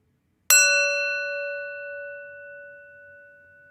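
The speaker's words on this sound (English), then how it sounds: "I'll warm up the bell." A single bell struck once, ringing out with a clear metallic tone that decays slowly over several seconds in an otherwise quiet room.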